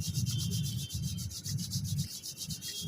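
Hands rubbing briskly together during a yoga and health routine, a steady rhythmic dry friction with quick repeated strokes, close and fairly loud, with no talking.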